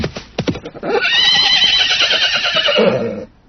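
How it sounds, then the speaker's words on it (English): A horse lets out one long, loud whinny that rises and wavers for about two seconds, with a few hoof clops before it, out on a quiet mountaintop. "Hey, Horsey, come back! I think I've lost my horse."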